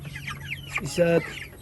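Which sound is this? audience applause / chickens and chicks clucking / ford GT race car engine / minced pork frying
chickens and chicks clucking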